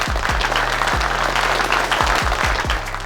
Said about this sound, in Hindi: तो जोरदार तालियों के साथ स्वागत करेंगे हमारे महागुरु का।